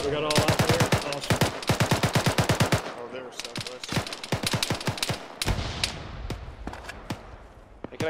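Sustained automatic gunfire in ArmA 3 during a squad operation, long rapid bursts of sharp, close shots followed by sparser single cracks, with brief talk underneath.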